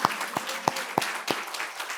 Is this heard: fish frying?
no